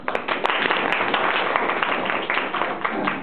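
An audience claps together in a classroom during midterm speeches, a dense burst of many hands with sharp individual slaps running steadily throughout.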